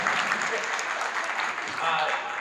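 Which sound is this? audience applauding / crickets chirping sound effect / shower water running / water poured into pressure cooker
audience applauding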